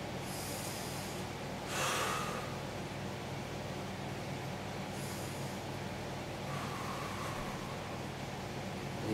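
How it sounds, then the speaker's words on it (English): A person breathes deeply in and exhales during a pelvic-tilt stretch, with two or three soft, airy breaths rising above a steady background hiss, close to the microphone. "Deep breath in, and exhale into the stretch."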